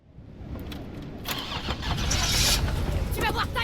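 In a video game, a car engine cranks and catches, then settles into a rising run, heard close over background game sounds while people talk in French.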